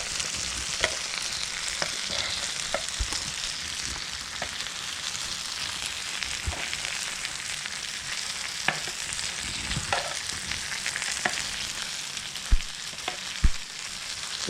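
Mayo chicken wings cook on a George Foreman grill, giving off a dense, continuous close sizzle and crackle with scattered sharp pops, loud and steady and with no talk over it.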